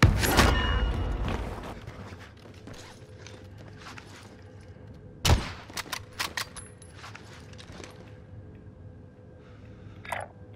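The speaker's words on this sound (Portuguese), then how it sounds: "Os gajos aqui aos tiros." Gunfire in the video game Call of Duty: Modern Warfare comes in sharp, loud bursts: a heavy volley at the start, a cluster of rapid shots midway and one more near the end, with mechanical clicks and rattles between them.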